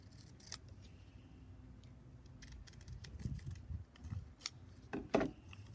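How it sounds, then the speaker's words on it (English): Scissors snip through paper while trimming a paper lobster tail for a craft, a few quiet cuts and rustles with sharper snips near the end, heard close by against soft background noise. "I'm going to cut my tail a little bit more because it doesn't fit."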